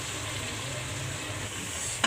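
Mutton frying in a pot while being stirred for yakhni pulao, a steady close sizzle with a sharp clink of a utensil near the end.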